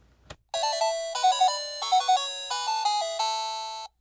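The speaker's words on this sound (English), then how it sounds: "it plays a little tune when you turn it on" A toy electronic keyboard plays a short bright startup melody on its own, a chain of clean beeping synth notes in a bouncy rhythm, close and fairly loud, after a click as it switches on.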